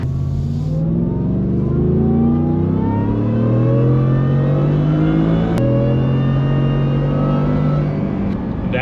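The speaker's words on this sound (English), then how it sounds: "you also have the supercharger whine" Supercharged V8 in a Shelby F-150 pickup revs hard and climbs steadily through the gears, with a rising supercharger whine riding over the loud, close engine roar and no talking.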